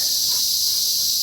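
Cicadas buzz in a dense, continuous high-pitched drone that stays loud and unbroken throughout, with no other sounds standing out.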